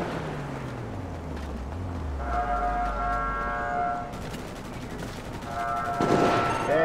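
Video game gunfire crackles in short bursts over a steady rumbling background, fairly faint and distant-sounding, with no talking.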